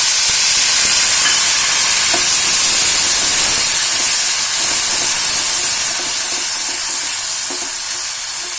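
Finely chopped tomatoes go into a pan of hot oil with golden garlic, setting off a loud, steady sizzle and hiss that fills the whole stretch, close up, with faint stirring ticks underneath.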